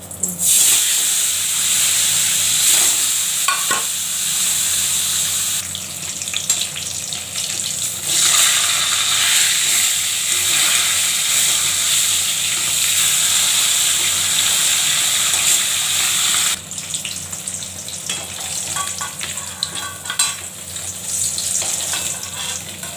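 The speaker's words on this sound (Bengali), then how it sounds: "নুন হলুদ মাখিয়ে নিয়ে মাছটা দিয়ে দিচ্ছি, ভেজে নিই" Fish rubbed with salt and turmeric sizzles in hot oil, a loud, steady crackling hiss that swells and eases in level over a long stretch, close and with no voices.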